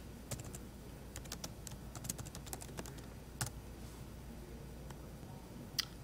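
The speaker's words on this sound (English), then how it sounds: "we'll start off by typing Foot Locker into the search bar" Quiet, quick keystrokes on a computer keyboard come in uneven bursts, close and soft, with no voices over them.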